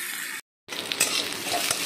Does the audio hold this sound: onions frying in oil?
yes